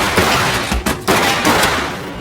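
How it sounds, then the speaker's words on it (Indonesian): A rapid burst of loud gunshots, several cracks in quick succession over a dense, noisy background, like a film action scene. "tak lama kemudian suara tembakan pun terdengar."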